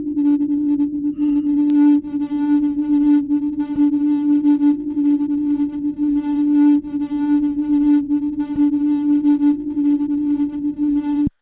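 A sustained synth tone runs through Ableton's amp effect set to the rock amp type with the gain turned down, giving a steady mildly driven drone with faint rhythmic buzzing on top and a few soft clicks.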